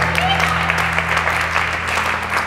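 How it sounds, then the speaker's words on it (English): An audience at a live open-stage show cheers and applauds the performers in a steady, dense wash of clapping and crowd noise, with a low steady hum underneath and some voices mixed in. "give a big cheer to all of our performers tonight"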